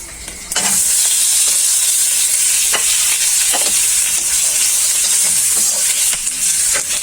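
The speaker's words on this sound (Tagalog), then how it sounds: "Ito na ang bawang. Gisa pork." Pork and garlic sauté in a hot pan with a steady, close frying sizzle and hiss, while a utensil stirs with scattered scraping knocks throughout.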